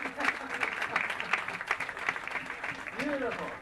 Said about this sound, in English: Keep that applause going for a fantastic show tonight.